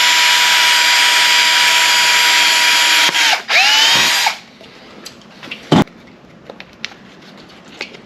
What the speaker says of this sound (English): what you can do as well is drill a hole somewhere